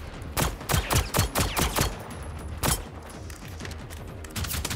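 Rapid bursts of pistol shots ring out in the Generation Zero video game, several sharp cracks in quick clusters with short pauses between them, loud and close over a busy game background.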